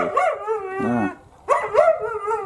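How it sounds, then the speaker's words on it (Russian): A Laika dog gives long, drawn-out howling barks close by, two sustained yowls separated by a brief pause. "Лает."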